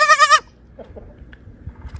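A newborn baby goat gives one short, wavering bleat up close, followed by quiet shuffling and rustling.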